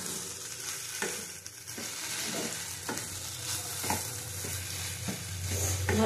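Grated taro root with shrimp frying in a pan, a steady loud sizzle with repeated scraping stirs of a spatula at a fairly regular pace, close and without talk.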